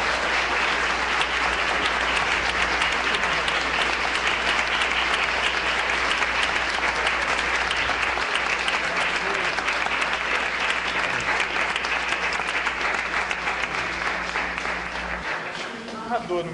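A church congregation claps in steady, dense applause at an Easter service and cantata, loud and continuous for over fifteen seconds before trailing off, with a low hum underneath.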